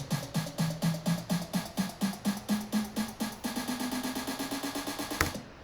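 Layered clap samples hit in a steady, quick rhythm, each punchy crack sitting over a low pitched thump that continues as an even pulse.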